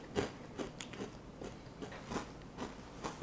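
Crunching while eating a cereal-like snack, close and quiet, with repeated bites and chewing at a steady pace and no talking.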